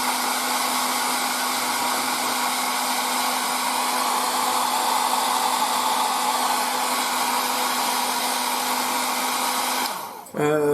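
A hair dryer runs loud and steady at close range to dry acrylic paint on a scale model, giving a constant whirring hum that cuts off abruptly near the end.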